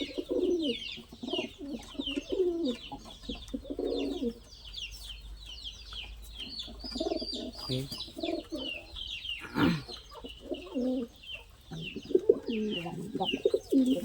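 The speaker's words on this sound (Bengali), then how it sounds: "অনেক ডিস্টার্ব করে কবুতর" Pigeons kept with their squabs coo repeatedly and close by, soft throaty phrases rising and falling amid occasional wing flutters and brief chirps.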